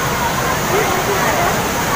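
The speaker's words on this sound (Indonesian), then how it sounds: "Jadi di depan kita itu air terjunnya teman-teman ya, air terjun Bantimurung yang terkenal itu loh" Bantimurung waterfall roaring as a steady, loud broadband rush that fills the whole scene without a break, with faint crowd babble mixed in.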